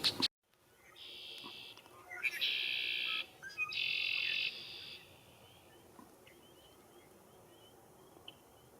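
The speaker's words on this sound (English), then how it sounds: "The echoing calls of red-winged blackbirds heard throughout New England's marshes is an iconic" Red-winged blackbird calls ring out across a New England marsh in early spring, a few bright buzzy trills in quick succession at moderate distance over a soft, steady outdoor hiss.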